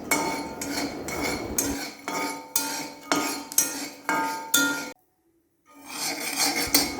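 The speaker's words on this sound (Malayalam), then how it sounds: "മീഡിയം ഫ്ലെയിമിലിട്ടിട്ടാണ് ഞാനിത് വറുത്തെടുക്കുന്നത്." Peanuts dry-roast in a pan over a medium flame, stirred in repeated rattling, scraping bursts. A short silence comes near the end before the stirring resumes.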